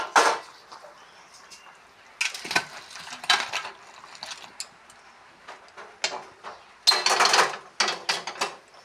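Crab curry with potato and spiny gourd scraped and poured from a pot, with intermittent metallic clinks and scraping bursts of a utensil against cookware, close and moderately loud, separated by quiet pauses.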